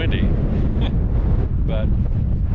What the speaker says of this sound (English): it's also extremely windy.